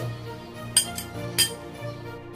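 A metal spoon scraping bael fruit pulp into a bowl gives two sharp clinks against the dish over a low background hum, with softer scraping in between.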